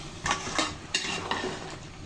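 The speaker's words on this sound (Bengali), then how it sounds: "নাড়াচাড়া দিয়ে ডালটা মাংসের সাথে ভালো করে কষিয়ে নিব" Chana dal being stirred into beef frying in a pan: a spoon or spatula scrapes and clinks against the pot in several strokes over a steady low sizzle, close up, with no voices.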